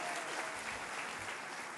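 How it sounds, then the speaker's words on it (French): Steady applause fills a political rally hall as a crowd cheers newly elected European parliamentarians and National Assembly deputies, a distant, even roar of clapping without pauses or voices. "qu'on peut applaudir."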